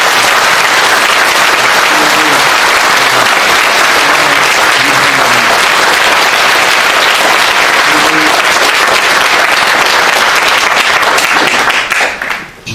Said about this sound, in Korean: 우리 박수 한번 쳐주시면 좋겠습니다